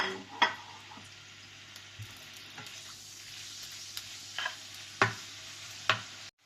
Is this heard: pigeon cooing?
no